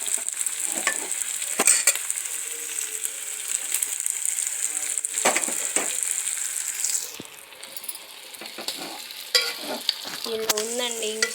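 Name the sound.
stirring mutton curry frying in a pan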